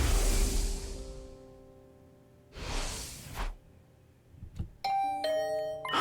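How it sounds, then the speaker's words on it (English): Two doorbell chimes ring out in The Hundred Line: Last Defense Academy, each a bright swelling tone that fades away, followed by a short chiming melody of clear sustained notes. "Was that my doorbell?"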